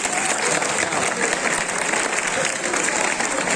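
A crowd at a Republic Day school gathering claps continuously, a thick, even wash of applause at full strength from start to finish with no speech over it.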